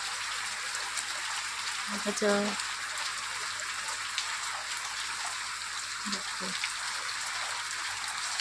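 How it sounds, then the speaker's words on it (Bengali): Steady rain pours down in an outdoor garden with flowering plants and chilli plants, a continuous dense hiss throughout, while a person briefly speaks over it. "ঝমঝম করে বৃষ্টি পড়ছে"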